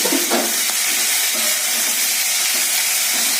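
Prawns sizzling and frying in a hot pan, a constant bright hiss with a few soft stirring scrapes.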